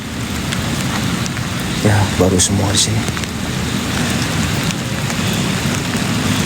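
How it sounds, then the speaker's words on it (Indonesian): Heavy rain pours steadily over a graveyard with low rumbling in the background, likely distant thunder, while people talk briefly over the downpour. "Mana hujan, nih hujan lagi gede."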